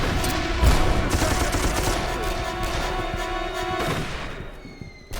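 Sustained gunfire from the video game Darkest of Days rattles continuously as a dense, loud fusillade of overlapping shots that fades out near the end.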